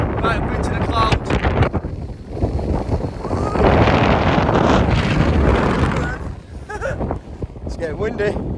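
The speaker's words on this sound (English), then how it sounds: "It's getting windy." Gusty wind buffets the microphone on an exposed ascent toward Ullock Pike on Skiddaw in the Lake District, in freezing conditions. Rough, roaring bursts swell loudest midway and then ease, with faint muffled voice sounds at the edges.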